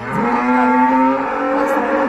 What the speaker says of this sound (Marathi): ती गाय जी आहेत ना खूप गागत आहे तिच्या वासराची वाट बघत आहेत